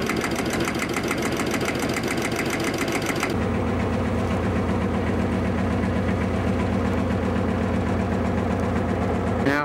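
A small diesel engine runs close by with a loud, rapid knocking chug, its tone shifting partway through to a lower, steadier idle that carries on without voices.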